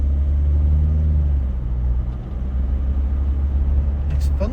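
A GWM Poer 300 diesel pickup truck drives in sport mode, with a steady low engine rumble and road noise from inside the cab that dips briefly midway before resuming.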